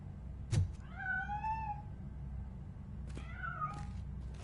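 A cat meows twice, each cry drawn out and wavering, with a dull thump just before the first and a couple of faint knocks around the second, close by in a quiet room.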